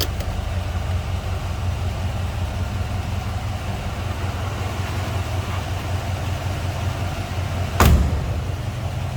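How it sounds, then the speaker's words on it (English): Over a steady idling engine, a single solid thud near the end as the door of a 1970 Buick Electra 225 Custom Convertible shuts. "Door closes nicely"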